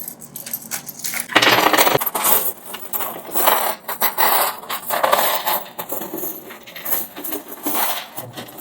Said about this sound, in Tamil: நாணயங்கள், 10 ரூபாய் நாணய குட்டிகள்